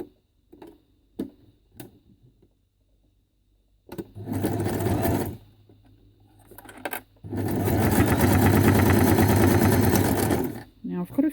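Sewing machine stitching small paper scraps into a long joined chain, with a few sharp ticks at first, then two loud sustained bursts of steady whirring separated by a short quiet gap.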